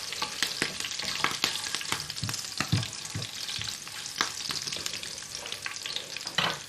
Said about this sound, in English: Straight away you want a little bit of splattering should take place